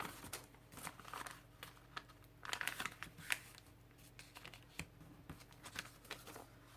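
Paper being folded by hand for a starter art journal after glue is laid down: close, quiet crinkling and soft creasing rustles in short irregular bursts, with a few light taps and no talking.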